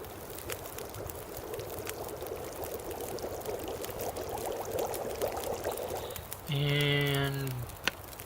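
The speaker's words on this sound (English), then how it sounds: "So I'm gonna definitely boil some water here." Snow melting and water boiling in the video game The Long Dark: a steady rushing, bubbling hiss builds for several seconds, then a short tonal chime plays over it, near and moderately loud, with no speech.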